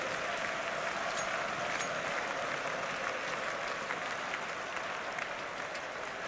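Large arena crowd at the Royal Arena cheering and applauding during an esports match, a dense, continuous roar of clapping and voices filling the space at steady loudness throughout.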